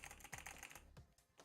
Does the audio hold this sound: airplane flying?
no